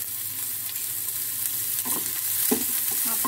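Onions sizzling on mustard seeds in a hot pan for an Alu-Patol Bhujia, a steady close frying hiss with a few brief stirring scrapes toward the end.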